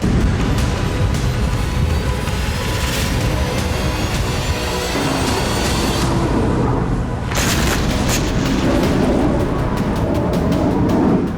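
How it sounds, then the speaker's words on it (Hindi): Bombardment strikes in Beirut, Lebanon, where a building was destroyed, come through as a loud, unbroken roar of rumbling blasts and crackling debris, with heavier booms surging throughout and no clear voices. "बमबारी में एक इमारत पूरी तरह से तबाह हो गई।"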